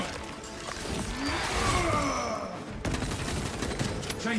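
Rapid gunfire from Space Marine 2 battles against alien bioforms, with dense sustained bursts and whooshing effects that stay loud throughout, mixed with in-game voices.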